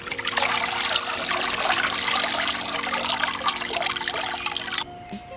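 Water pours and trickles steadily off a papermaking mould as it is lifted from a vat of pulp, a dense close splashing that stops abruptly near the end.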